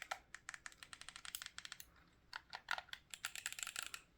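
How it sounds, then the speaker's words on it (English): Clicky bumper buttons on an 8BitDo Ultimate 2 game controller are pressed over and over, making a quick run of sharp, light clicks close by that is faint and has no speech over it. "Oh, and it has clicky bumpers."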